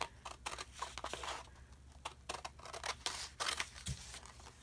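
Scissors snip through layered paper while trimming handmade journal cards, giving a quiet run of quick, irregular cuts and rustles close by.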